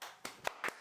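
A few sharp hand claps, about four, spaced unevenly and heard close and fairly quiet.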